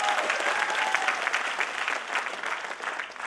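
A celebration audience claps in a dense, steady round of applause that fills the room. It stays loud throughout and fades slightly toward the end, with no talking over it.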